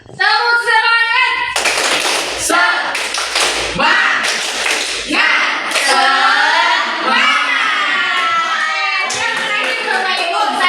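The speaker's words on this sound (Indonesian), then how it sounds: "Oke, tepuk semangat" A group of adults joins in a rhythmic spirit clap, bursts of sharp patterned clapping alternating with a leader's loud voice and group chanting, close and energetic throughout.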